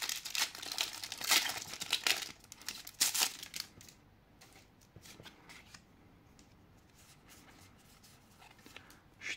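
Foil wrappers of Pokemon Lost Origin card packs crinkling and tearing as they are opened, with busy rustling at first and then softer, sparser handling of the cards and packaging, close up and without speech.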